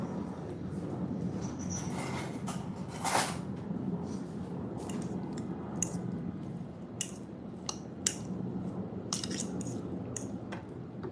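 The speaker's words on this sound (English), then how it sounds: "you're gonna take like a spoon or a fork and mix it up" A spoon or fork stirs eggplant stuffing in a bowl, a quiet muffled scraping and squishing broken by sharp clinks of metal against the dish, irregular and close.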